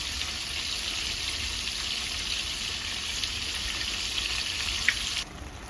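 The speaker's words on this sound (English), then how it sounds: "In the meantime, I'm gonna wash the rice, then I add it to it." Rice being washed in a sink under running tap water: a steady, close, continuous splashing hiss that cuts off abruptly near the end.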